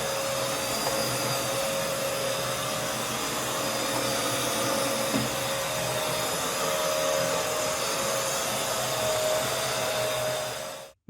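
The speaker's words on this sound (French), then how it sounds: "je vais mesurer à quel moment l'aspirateur va s'arrêter" A PrettyCare V3 cordless vacuum cleaner runs with a steady, even whine and airy rush for about eleven seconds, then cuts off abruptly at the end.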